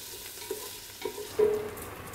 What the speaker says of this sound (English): So just make sure you break up all the bits of bacon, make sure they're all cooked through